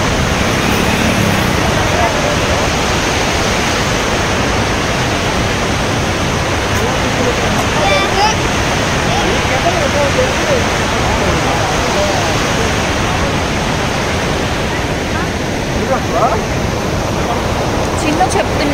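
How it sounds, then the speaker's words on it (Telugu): A waterfall rushes loudly in a dense, steady roar of falling water that stays constant and close from start to finish. "భలే సౌండ్ వస్తుంది వాటర్ సౌండ్."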